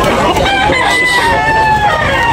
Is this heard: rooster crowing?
yes